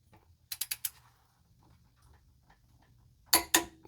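A ratchet wrench with a short 5/8 socket clicks on an engine bolt of a 1997 Jeep Grand Cherokee ZJ during a head gasket job: four quick sharp clicks, a quiet pause, then two more, close up.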